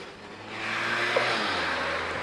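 A red car drives past on a residential street, its engine rising from a low hum to a broad, close rush and then easing off as it moves away.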